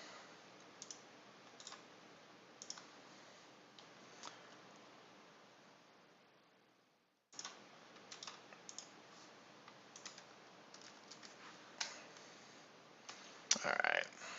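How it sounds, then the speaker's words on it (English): A computer keyboard clicks and taps irregularly over a steady hiss, faint scattered keystrokes with a brief silent gap midway and a louder burst of clicking near the end. "Oh, is my keyboard being weird again?"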